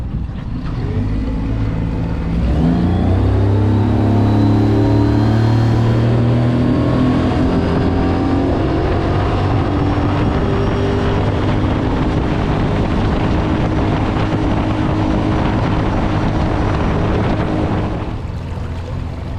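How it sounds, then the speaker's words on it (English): A Stabicraft 1450 aluminium boat with a 40 hp outboard motor doing a hole shot: the engine roars up loudly, its pitch climbing steadily as the hull gets onto the plane, then holds a high drone over water noise. "I've done a couple of hole shots to see how the motor performs"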